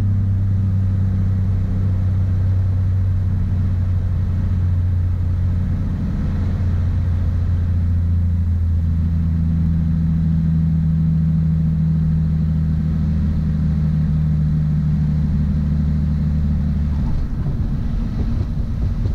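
Piper Archer light aircraft engine during landing at Schaumburg, a loud, steady low drone with shifting tones and heavy rumble from inside the cabin, then a rougher rush near the end, with no talking.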